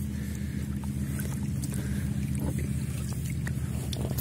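Small boat rowed with paddles on open water on a summer outing, a steady rumbling wash of water and wind with faint splashing strokes, continuous and close.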